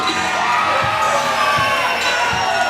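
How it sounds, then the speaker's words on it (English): A wrestling crowd cheers loudly as the reigning tag team champions make their entrance at an indoor show: a dense, sustained roar of shouts and whoops, with thumping beats pulsing underneath at a steady rhythm. "And listen to the response from the crowd."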